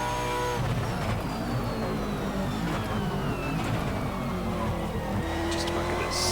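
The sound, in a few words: Brabham BT62 hypercar engine racing in Assetto Corsa video game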